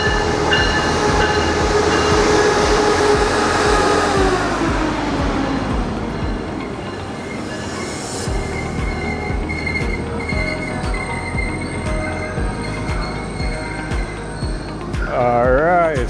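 A Brightline train rolls into a Fort Lauderdale station with a deep rumble and rising wheel squeal, metallic screeches and whines growing as it slows to a stop nearby.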